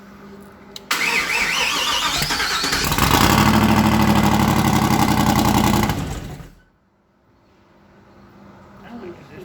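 A project car engine is cranked and catches, running roughly and firing on only one side, loud and close for about five seconds before cutting out to quiet, with voices faintly around it.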